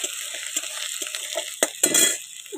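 Panch phoron spices dropped into hot oil on an outdoor wood-fired clay stove, sputtering and crackling in short bursts mixed with scraping stirs and metal clinks of a utensil against the pan.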